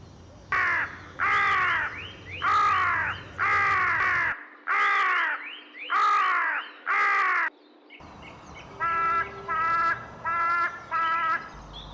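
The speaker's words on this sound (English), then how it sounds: "This is a carrion crow." A carrion crow caws loudly in two series of harsh, evenly spaced calls, close and clear against a quiet outdoor park background.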